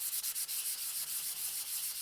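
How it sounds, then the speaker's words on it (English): Primed EVA foam being sanded by hand with 320 grit flexible 3M sandpaper, a quick series of close, soft rubbing strokes with brief dips between them. "I am taking some 320 grit flexible sandpaper from 3M, and I'm just going to sand it"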